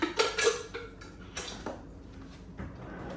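Dishes and cutlery clatter during kitchen tidying, with a few sharp clinks and knocks close by that fade into quieter handling between bursts.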